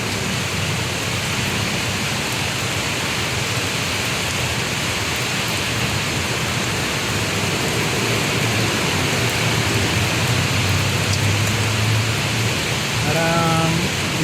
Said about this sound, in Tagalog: Lakas talaga ng ulan, oh.